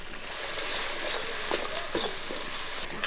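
Chicken curry with ground spice paste cooks in a pan, giving a steady dense hiss of frying with a few soft stirring scrapes and clinks on top, close and even.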